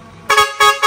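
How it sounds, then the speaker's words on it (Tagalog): Loud dual trumpet air horn on a vehicle blasting three short honks in quick succession, close and brassy with strong harmonics. "Air horn niya, ulit mo na."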